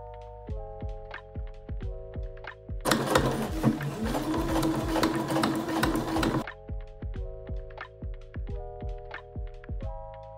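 A sewing machine stitching fabric for a jumpsuit, running in steady rhythmic bursts of rapid mechanical ticking, with a louder, denser stretch of stitching in the middle, close and clear.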